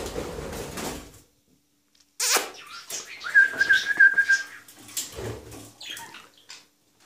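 Czechoslovak budgerigars indoors give a bright, high chirping warble for about a second mid-clip, with sparse softer chirps and small clatters around it after a brief lull.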